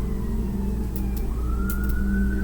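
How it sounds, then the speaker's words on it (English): Emergency vehicle sirens wail in the background, a continuous rising and falling tone heard alongside a low engine rumble and steady traffic noise. "I'm hearing sirens in the background, in my background"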